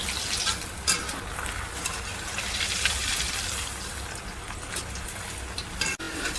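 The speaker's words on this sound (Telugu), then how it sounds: "సో మనం లో ఫ్లేమ్లో పెట్టుకొని ఫ్రై చేసుకుందాం." Veg Manchurian balls deep-fry in oil on a low flame, giving a constant bubbling sizzle with occasional soft clinks, close by and uninterrupted by speech.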